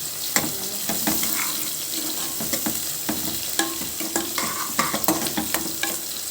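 Ingredients for a ridge gourd curry with red lentils stir-fried in a pan until golden, with a steady sizzle and repeated close scraping and stirring strokes throughout.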